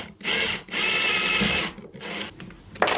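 A cordless drill drives a screw into a homemade air filter box in short buzzing bursts, two long pulses and a shorter one, close and loud with brief pauses between.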